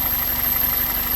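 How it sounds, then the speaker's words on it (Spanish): A car engine with a cylinder misfire idles in a parking lot at night, then is lightly revved, giving a continuous steady hum with an uneven, faintly knocking pulse, close and alone. "le voy a dar un poquito nomás y escuchen cómo es el motor"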